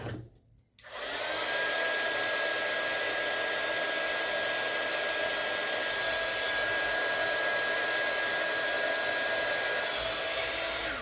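A heat embossing gun switches on after a short pause and blows with a steady, loud whooshing roar and a thin high whine, running without a break.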